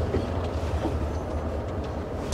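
A train rumbles past a road crossing in steady, continuous low clatter, loud and close throughout, with no voices over it.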